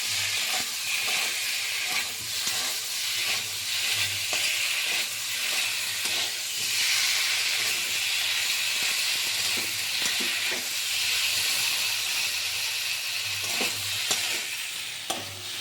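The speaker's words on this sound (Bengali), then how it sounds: "এখন ভালো করে সমস্ত উপকরণ আমি কষাতে থাকবো আলুর সঙ্গে" Potato pieces with salt, turmeric, sugar and spices frying in a pan for a pointed gourd dish, a loud continuous sizzle and hiss with rhythmic scraping strokes of a spatula stirring them.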